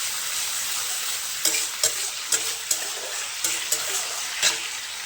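Chilli chicken is stirred in a pan after soy sauce, chilli sauce, vinegar and a splash of water go in, giving a steady wet sizzle broken by sharp spatula scrapes and clacks at irregular intervals.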